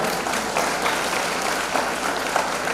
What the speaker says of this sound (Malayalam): എല്ലാവരും നല്ല രീതിയിൽ ക്ലാപ്പ് ചെയ്യാൻ.